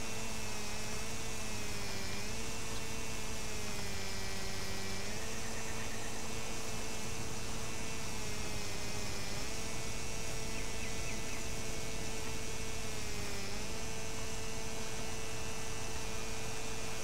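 A push lawn mower engine in Lawn Mowing Simulator drones steadily, an even motor hum whose pitch dips and recovers at regular intervals as it works, with no talking over it.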